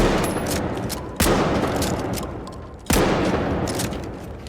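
Two heavy, booming blasts from a KS23 shotgun in the video game The Finals, spaced well apart, each followed by a long decaying roar of game noise.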